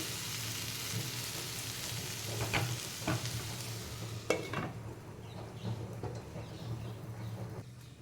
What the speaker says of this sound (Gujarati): એને વચ્ચે તમારે હલાવતા રહેવાનું એટલે નીચેથી દાજી ના જાય